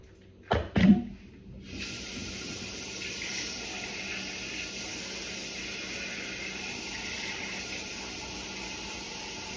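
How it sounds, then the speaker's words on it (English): Water pours steadily into a crock pot holding smoked turkey necks for black-eyed peas, a continuous close hiss and splash after a couple of brief knocks at the start. "I'm going to add some water to the crock pot."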